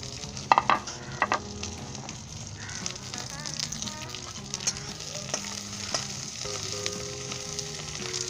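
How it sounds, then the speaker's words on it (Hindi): Carrots, capsicum and onion sauté in oil in a wok, a steady sizzle and crackle with scraping stir strokes and spatula knocks against the metal throughout, fairly close and alone without talk. "उसके बाद मैं गाजर, शिमला मिर्च और प्याज डालकर इसमें सौते करूँगा।"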